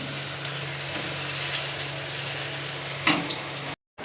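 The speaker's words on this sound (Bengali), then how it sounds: "লাস্টে যেটুকু ব্যাটার ছিল ওটা দিয়ে এটা ভাজা হচ্ছে" Leftover onion pakora batter fries in a pan of hot oil with a steady close sizzle and crackle, a brief louder spatter near the end before it cuts to silence.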